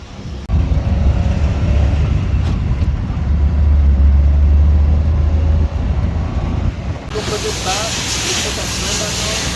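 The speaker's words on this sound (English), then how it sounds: "First drive in the Acne van." A converted van on its first drive gives a continuous loud engine and road rumble from inside the cabin, swelling briefly, then a hissy broadband rush near the end.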